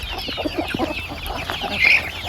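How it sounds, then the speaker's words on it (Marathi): A desi hen on a free-range poultry farm clucks softly among her chicks, a few short low clucks close by over faint background noise and occasional high chirps. "एकदम नॅचरल पद्धतीने कोंबडी आपल्या पिल्लांचा सांभाळ करते"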